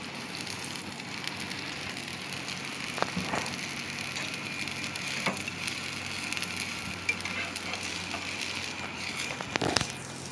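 Hot oil sizzling in a frying pan while cooking semolina paratha, a steady crackling hiss with scattered pops and ticks, fairly close and continuous.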